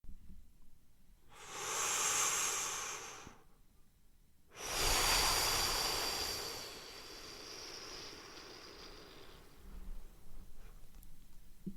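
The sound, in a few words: Ujjayi breathing, ocean-like breath sound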